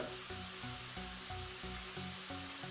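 Meat mixed with raw vegetables and salt sizzles in a pan as filling for savoury crêpes, giving a steady, close frying hiss over a low hum.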